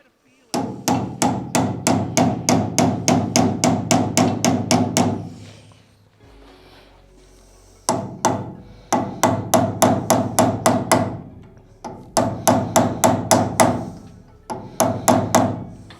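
Hammer blows fold edges over on a front suspension part for an Audi quattro Group S RS001 build, struck in fast, even bursts of about a dozen loud close hits each, separated by brief pauses.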